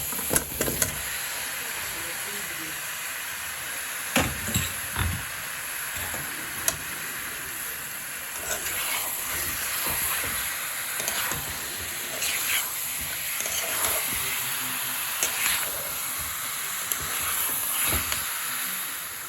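Pork added to a spice paste and frying in a pan: a moderate sizzle with several sharp knocks and stirring clatters early on, then an ongoing hiss with scattered clicks.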